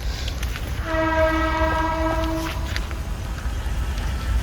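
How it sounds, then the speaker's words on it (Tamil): A passing train sounds its horn once in a steady blast of a couple of seconds, over a constant rumble of rail noise at moderate distance. "ட்ரெயின்"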